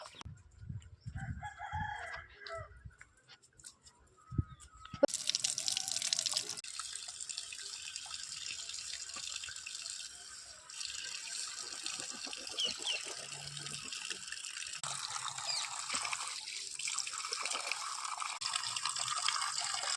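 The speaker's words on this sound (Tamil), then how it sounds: "வாங்க சிண்டெக்ஸில் போய் கழுவுவோம்." Water from a Sintex tank runs steadily as a broad hiss for about fifteen seconds while things are washed, following a quieter start with a rooster crowing nearby.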